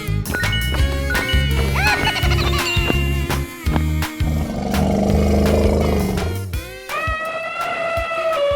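A tiger roars in a 3D animal slide video game, loud growling calls mixed into dense, steady game music and sound effects.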